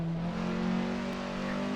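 Cosworth race car engine in Assetto Corsa revving hard toward 9,000 RPM, a loud, steady, buzzing engine note held close and alone with no talk.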